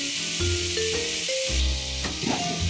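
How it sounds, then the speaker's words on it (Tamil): Chopped tomatoes sizzle and soften in a hot pan while Gobi Manchurian is cooked, a steady close frying hiss with brief stirring scrapes and faint music. "தக்காளி எல்லாம் நல்லா வதங்கி நல்லா வெந்துருச்சு"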